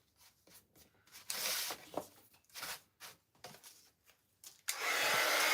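A hair dryer blows on a glued napkin layered onto a thrifted pallet sign, switching on in short intermittent bursts before a louder sustained blast near the end, close by.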